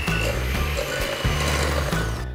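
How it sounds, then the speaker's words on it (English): An electric hand whisk whirs steadily as it beats sugar and butter together in a bowl, a loud, continuous motor drone with a slight rattling texture and only brief dips. "I'm going to use my electric hand whisk to mix it all up."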